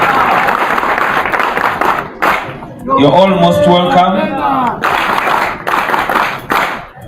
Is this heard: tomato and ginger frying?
no